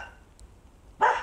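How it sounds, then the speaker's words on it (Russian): A single dog bark rings out from outside near a small house at night, short and fairly loud after a near-silent stretch. "Что там лает?"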